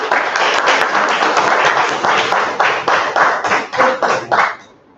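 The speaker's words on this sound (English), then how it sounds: "I welcome with a round of applause." Audience applause at a Toastmasters meeting welcoming the Toastmaster: steady, fairly loud hand clapping from a room of people that grows choppier and thins out before stopping near the end.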